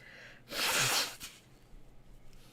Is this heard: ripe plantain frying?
no